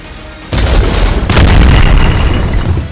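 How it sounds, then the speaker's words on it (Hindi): Airstrike bomb and missile explosions, a sudden loud boom followed by a second heavy blast and continuous deep rumbling roar that fills the whole stretch without speech. "हमास के कमांडरों पर सीधे बम और मिसाइलों से हमला किया है"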